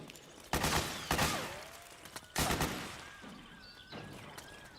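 Gunfire in Metal Gear Solid 4: a few heavy, loud bursts of shots spaced irregularly, each trailing off, with whistling and whizzing effects and fainter shots between.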